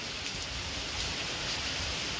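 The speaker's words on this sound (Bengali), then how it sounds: "বেশ জোরেই বৃষ্টিটা এলো।" Heavy rain pours down outside during a gusty storm, a steady dense hiss of falling water that holds constant throughout with no voices.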